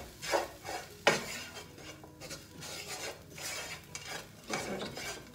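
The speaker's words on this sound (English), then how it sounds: "Let's give that a stir." Lamb rogan josh with curry powder is stirred in a pan: a spoon scrapes and rasps across the metal in repeated strokes, with occasional sharper clanks and a faint sizzle underneath.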